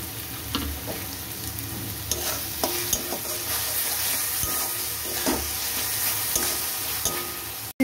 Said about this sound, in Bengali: হলুদটাও আমি পেঁয়াজের সাথে ভালো করে কষিয়ে নেব।